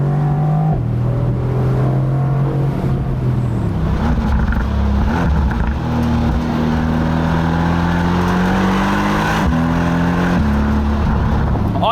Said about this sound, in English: Cracks and pops are quite nice, not too many of them.